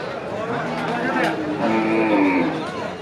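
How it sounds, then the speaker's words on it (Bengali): Cattle, including bulls, at a busy Eid livestock market near Savar, mooing in long, drawn-out calls over a crowd's murmur, with people talking nearby. "সুন্দর সুন্দর গরু আসছে।"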